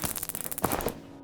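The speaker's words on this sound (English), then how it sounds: "I'll even add the pistol gunshot sound effect" A rapid burst of pistol gunshot sound effects, about a dozen sharp cracks in quick succession over one second, then a brief decaying tail, with no voices.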